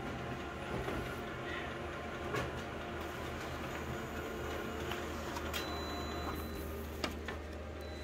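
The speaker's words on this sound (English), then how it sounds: "Little scanner's making some horrible noises." A small document scanner with a sheet feeder grinds and rattles as it scans, a steady mechanical clatter with scattered clicks and ticks, fairly quiet and heard on its own.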